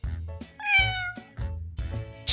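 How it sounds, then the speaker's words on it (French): A cat meows once with a drawn-out, rising-then-falling cry, set between short bursts of other sounds, close and clear. "Chat."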